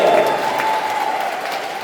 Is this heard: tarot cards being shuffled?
no